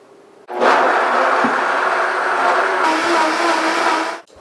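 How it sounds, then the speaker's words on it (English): A blender whirs loudly and steadily for about four seconds as it purées onion, ginger and four garlic cloves, starting abruptly and cutting off sharply at the end, with the motor pitch shifting slightly partway through. "We are going to blend it."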